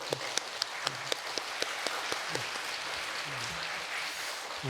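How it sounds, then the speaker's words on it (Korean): Scattered clapping from a church congregation at a Friday prayer meeting, a few sharp distinct claps over a light wash of applause, moderately quiet and thinning out. "귀한 말씀 전해주신 우리 목사님께 감사의 박수를 올려드리겠습니다."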